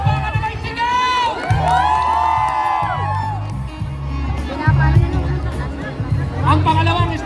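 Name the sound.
crowd cheering and applauding at festival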